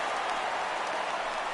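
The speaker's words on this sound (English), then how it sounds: "Crowd gets up for the 3-2." Stadium crowd in MLB The Show 17 rising for a full 3-2 count during a Braves vs Athletics game: a steady, dense wash of cheering and applause that holds loud and unbroken throughout.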